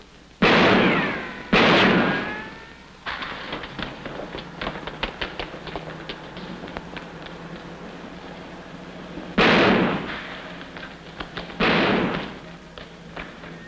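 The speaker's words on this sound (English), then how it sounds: "Hey, stop or I'll shoot!" Gunshots in a 1947 comedy film: two loud, sharp blasts in quick succession, then a stretch of quieter scuffling, followed by two more loud shots spaced a couple of seconds apart.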